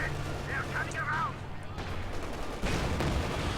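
A Chocolate Cannon vehicle fires in a war strategy video game, a heavy boom over a continuous battle din with a second blast near the end, background game noise steady throughout.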